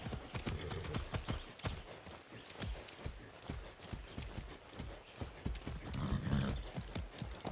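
Rapid horse hooves in the video game Far Cry 6 clip-clop steadily at a trot, close and continuous, with faint rustling and no talking.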